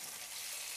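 Cut potato pieces hiss and crackle in a hot frying pan as they are laid in one layer, a dense, steady, close-up sizzle with no talking.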